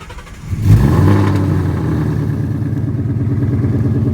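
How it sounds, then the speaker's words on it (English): A warm 2018 Ford Mustang GT engine revs sharply then settles into a loud, throbbing exhaust burble at idle, close by, with no talk. "Go ahead and show y'all a couple exhaust notes here"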